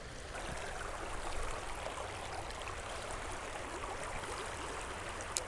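A small creek rushes in a fast current around a tree trunk, a steady close broadband wash of flowing water with no voices.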